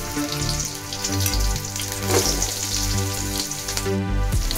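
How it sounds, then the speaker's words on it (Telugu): Mustard seeds, cumin and ginger garlic paste fry in hot oil for a bread fry dish, a loud close sizzle with crackling pops running steadily throughout. "ఆయిల్ వేడయ్యాక ఆవాలు, జీలకర్ర, కొంచెం అల్లం వెల్లుల్లి పేస్ట్ వేసుకున్నాము"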